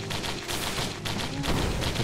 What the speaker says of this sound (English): I like how the missiles just go